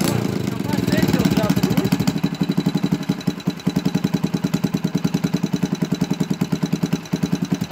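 An old, worn-out motorcycle found in a rural field, started with one kick, idles with a loud, uneven, chugging pulse right after startup while people talk nearby.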